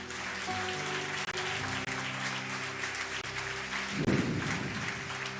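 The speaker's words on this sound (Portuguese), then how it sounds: "Você pode aplaudir Jesus?" Church congregation applauding, a dense steady wash of clapping from many hands that swells slightly near the end, with sustained organ or keyboard tones underneath.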